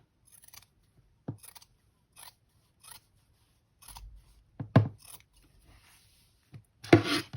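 A few separate snips of scissors cutting through thick layers of potholder fabric, sparse and close, with quiet pauses between each cut.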